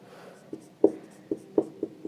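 Chalk or pen writing on a board during a Hindi-language lesson on respiration, heard as a string of about six short, sharp taps and scrapes at irregular intervals over a faint room background, with no talking.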